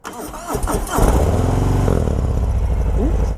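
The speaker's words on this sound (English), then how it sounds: "let's listen and hear what this thing sounds like" A 2018 Harley-Davidson Fat Bob 114 ci motorcycle engine cranks with a few quick turns, then fires up and settles into a loud, deep, steady idle rumble close by.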